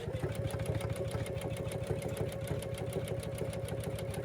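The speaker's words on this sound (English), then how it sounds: "this is called a tack down stitch, which means it's going to sew the fabric down to my background" An embroidery machine running a tack down stitch to fix appliqué fabric onto the background in the hoop, a fast, even mechanical chatter that holds steady throughout with no voices.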